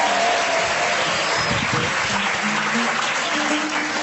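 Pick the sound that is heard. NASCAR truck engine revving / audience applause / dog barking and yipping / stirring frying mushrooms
audience applause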